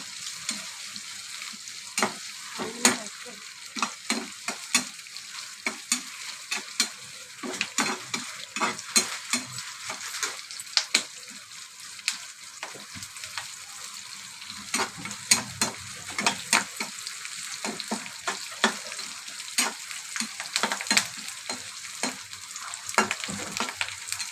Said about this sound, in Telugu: ఇలాగా ఆనియన్స్ గ్రీన్ చిల్లీస్ తాలింగ్ గింజలు వేసి బాగా వేయించుకోవాలి